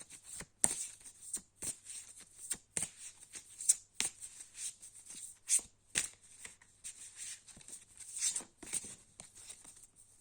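Oracle cards being shuffled for a love reading, close and quiet, with repeated crisp riffles and soft slaps in an uneven rhythm and no talking.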